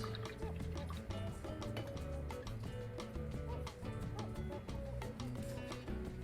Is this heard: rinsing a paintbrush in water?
yes